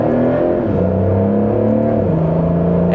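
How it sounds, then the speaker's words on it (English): A Porsche 911 GTS (992.2) in manual mode and Sport Plus revs up loudly and close, its exhaust note rising through gear changes, with brief dips as it shifts. "that's just a minor acceleration. That definitely sounds pretty good."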